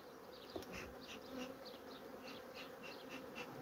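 Honey bees from a strong colony buzz inside an opened hive, a faint, steady, droning hum with small flickers as individual bees pass.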